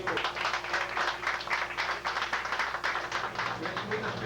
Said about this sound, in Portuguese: Palmas ao Senhor, amados.